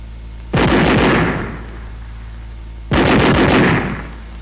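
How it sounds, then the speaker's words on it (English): A WWII machine gun fires two loud, close bursts of rapid automatic fire a couple of seconds apart, each rattling for about a second before a trailing echo fades out. "Weapons giving automatic fire will fire continuously as long as pressure is applied to the trigger"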